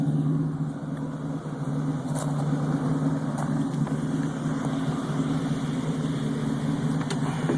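A 1973 Ford Mustang with a 351C-2V V8 runs steadily and loudly throughout, a continuous engine drone with a brief lift partway through, with no voices present.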